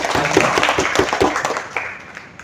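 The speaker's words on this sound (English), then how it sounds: "Let's give a big round of applause to him" An audience in an academy hall applauds briefly, a short burst of scattered clapping that tapers away within a couple of seconds.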